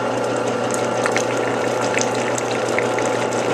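Thick hot process soap is stirred in a pot, making a continuous run of wet clicking and scraping textures with small squelchy pops. The sound is close, steady and moderately loud, with no voices.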